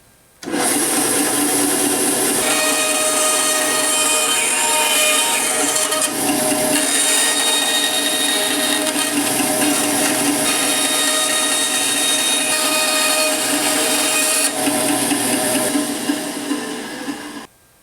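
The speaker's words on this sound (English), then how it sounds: "I'm going to go ahead and use my bandsaw because I'm not going to try to cut a perfect ellipse." A bandsaw cuts a crappie jig lure blade in one long, steady, loud stretch of whirring and rasping, starting abruptly and stopping near the end with no talk.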